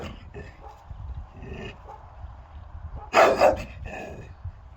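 A dog on a golf course gives one sharp, loud bark standing out from a quiet background, with a few fainter yips and rustles before and after.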